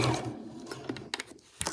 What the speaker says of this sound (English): I'm just sewing right along the edge